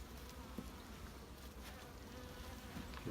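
Honeybees drone steadily around an open hive under inspection, a dense continuous buzz with individual bees passing close now and then.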